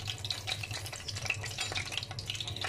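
Fried ingredients and spices sizzling as they go back into hot oil in a pan while a Pakistani kofta aloo is cooked, a steady soft crackle and stir, fairly quiet and continuous.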